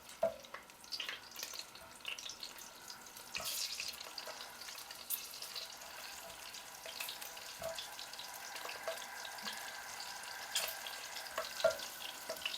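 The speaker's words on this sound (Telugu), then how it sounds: "ముందు పచ్చిమిరపకాయలు వేసుకుని బాగా వేపుకోవాలండి." Green chillies fry in oil in a pan, giving a faint steady sizzle with scattered crackles and occasional stirring clicks, close but quiet.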